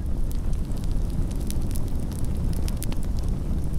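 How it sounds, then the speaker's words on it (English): A campfire in the woods gives a steady, dense rush with scattered sharp crackles and pops throughout, close and fairly loud, with no voices. "just the gentle crackling of the fire"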